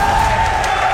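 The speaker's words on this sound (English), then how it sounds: "Man, the crowd is into it." A crowd at a Tekken tournament cheers and claps in a dense, steady roar, loud and close, with a sustained tone sitting over the noise.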